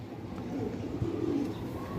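A Ferozpuri pigeon coos softly at close range, low murmuring calls repeating over a faint background hum, with no talking.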